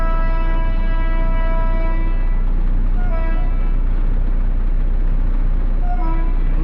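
An Indian Railways train on the Secunderabad to Vikarabad route sounds its horn in long, loud, steady blasts over a constant low rumble, with shorter horn notes returning later.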